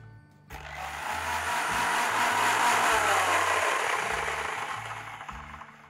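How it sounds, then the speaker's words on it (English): A mixer grinder whirs as pistachios are ground into powder in its jar, starting abruptly after a brief pause and holding a loud, steady motor roar for several seconds before easing slightly at the end. "I need to grind these pistachios. So I'm going to add this to my mixer jar."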